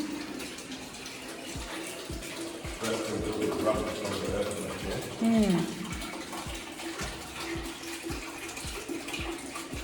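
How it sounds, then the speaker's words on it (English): Steady splashing of an outdoor fountain in Napier, New Zealand, a broad continuous wash of falling water close by, with people talking briefly over it and footsteps passing. "That's the fountain."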